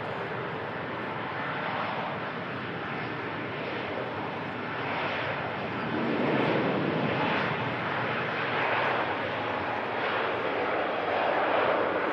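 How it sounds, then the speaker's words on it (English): A Singapore Airlines Airbus A350 takes off from runway 123 left, a steady broadband jet roar heard from a distance that swells slightly louder toward the end, with wind noise and no talking. "Singapore A350 just taken off now"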